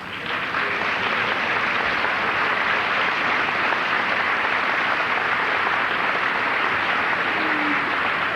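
Sustained, dense applause fills a high school commencement hall, a steady loud wash of many hands clapping together without a break for several seconds.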